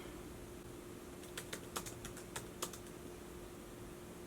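A run of light keystrokes on a computer keyboard while someone edits a website, with about eight quick clicks clustered in the middle, faint and close over steady room hiss, and no talking.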